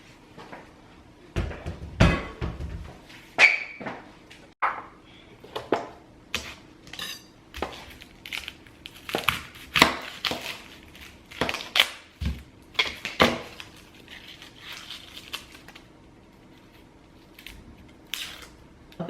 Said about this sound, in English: So I'm just gonna chop the onions and peel the shrimp so that they're already ready when I get back.